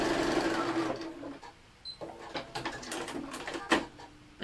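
Domestic sewing machine stitching rail fence quilt pieces, a fast rhythmic needle clatter running near and steady, briefly pausing then resuming with light mechanical clicks.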